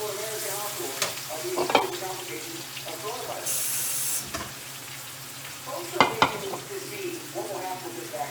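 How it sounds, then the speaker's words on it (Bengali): Onion frying in a pan with a steady broadband sizzle, broken by occasional sharp clanks and scrapes of stirring against the pan, close and moderately loud throughout. "আমি পেঁয়াজটাকে একটু ভালো করে ভেজে নেব।"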